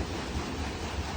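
Water churns continuously at a water-powered iron furnace, a dense, steady rushing roar with low rumble, loud and close, with no voices over it.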